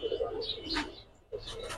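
A Bronze Chila pigeon gives a soft throaty coo close by in a brief pair of low, rolling calls separated by a short pause, with faint chirps around them.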